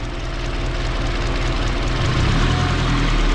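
A cold Honda K20 turbo engine in a Civic wagon idles very low with no idle air control valve. It gives a deep, steady rumble, close and continuous, growing slightly heavier toward the end, with no voices.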